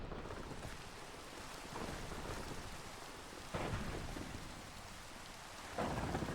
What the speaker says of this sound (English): even as we speak, if you hear that thunder roar